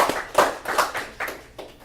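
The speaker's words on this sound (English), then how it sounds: "if we could get a round of applause for the students" A short burst of clapping, a few distinct claps tapering off, like a small group applauding briefly.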